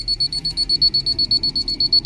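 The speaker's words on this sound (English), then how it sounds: "Be ready for a really loud beeping." A set of cheap parking sensors gives a loud, rapid, steady pulsing beep, with about twelve high-pitched beeps in two seconds, close and alone.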